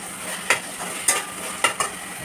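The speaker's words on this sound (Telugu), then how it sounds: "మీరు కలుపుతూనే ఉండాలి." A spoon stirs carrot and beetroot halwa in ghee in a pan, with four distinct scraping strokes over a soft continuous sizzle.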